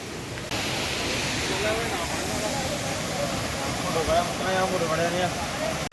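Bupra waterfall at Canacona, Goa, gives a steady broadband rush of falling water, with people's voices faintly heard over it.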